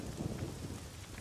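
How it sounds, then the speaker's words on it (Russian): Steady rain and rolling thunder in the Thai horror video game Home Sweet Home, a dense low rumble under constant hiss, fairly quiet and without talk. "Блин, дождина пошла."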